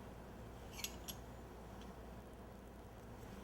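Scissors trimming fondant decoration on a golf bag cake, two quick close snips followed by a fainter third over a steady low room hum.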